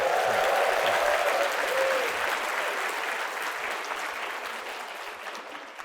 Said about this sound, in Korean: 자, 영혼 있는 박수를 한번 해보겠습니다